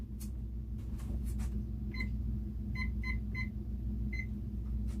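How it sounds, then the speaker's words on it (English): A kitchen timer beeps as it is set during soup cooking, with one short beep and then a quick cluster of button beeps and a final single beep over a steady low background hum. "Setting the timer for 3 minutes."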